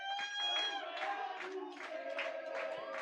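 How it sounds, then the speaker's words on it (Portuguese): Supporters cheer at an under-11 and under-12 youth football match between Guarani and Amparo, a steady swell of young voices shouting and calling out together, close and continuous with no pause. "A torcida se inflama"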